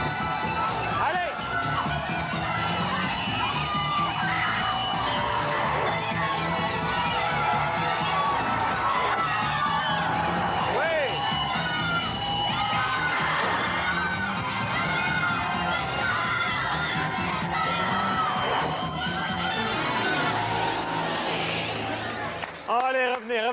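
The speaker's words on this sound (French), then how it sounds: "On les applaudit, on les encourage" Children cheering and clapping as a group at a Carmen Sandiego–themed event, a lively continuous babble of shouts and applause filling the space with voices throughout.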